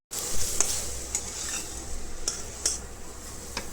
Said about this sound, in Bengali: এরপরে মাছের তেলগুলো দিয়ে দেবো।